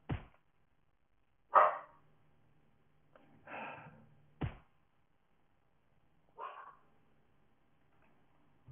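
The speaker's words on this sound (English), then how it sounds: "I really don't want to have to get up to go stop my dog from barking." A pet dog gives a handful of scattered, faint barks and yips spaced a second or two apart, heard off in a quiet room.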